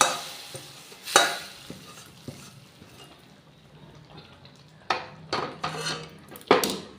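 A spoon stirring spice mix into mung dal with fish head in a kadai, several distinct scraping clanks against the metal pan with soft bubbling and sizzling between, close and without talk.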